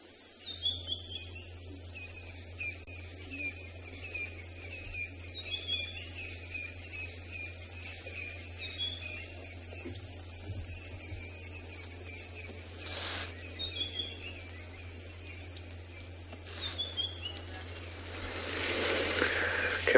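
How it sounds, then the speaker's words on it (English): Several birds chirp and sing intermittently after rain against a quiet, damp outdoor background with a low steady hum. "Just allow you to listen a moment for a few of the birds"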